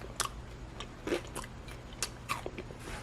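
Close, quiet chewing of cheese crisped on a tealight-powered raclette grill, with sharp crunchy bites and softer mastication spaced irregularly.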